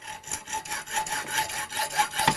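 A hacksaw with a worn, nearly useless blade cuts through a metal hose tail in steady back-and-forth strokes, each rasping pass close and distinct, about five strokes with no talking.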